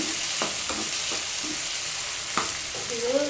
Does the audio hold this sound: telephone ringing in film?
no